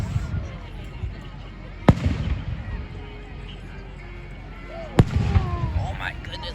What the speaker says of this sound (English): these fireworks are something else